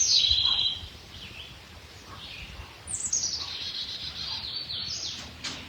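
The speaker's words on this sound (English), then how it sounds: "just listening to the bird song and receiving it as this invitation to breathe" Birdsong in a quiet outdoor setting: high, thin chirps and warbling phrases repeat over soft ambient noise, clearer and fuller in the second half, with no voices.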